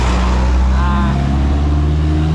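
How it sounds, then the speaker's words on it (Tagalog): Road traffic near the Davao-Samal bridge construction site on Samal Island: a loud, constant hum of vehicles passing close by and revving, with a voice audible beneath the engine noise. "traffic"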